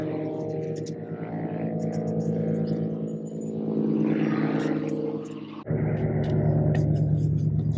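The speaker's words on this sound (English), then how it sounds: "There's an incredibly loud helicopter flying around me" A loud, steady aircraft drone with rotor-like rumble fills the whole stretch, swelling slightly and shifting in tone partway through.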